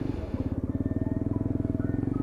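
A Lexmoto Venom motorcycle engine idles close by, its steady rhythmic thumping putter ticking over evenly without revving, heard from the rider's seat.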